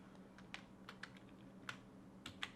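Quick, uneven bursts of typing on a computer keyboard during ZBrush sculpting work, with light individual key clicks close by and quiet, with no talk.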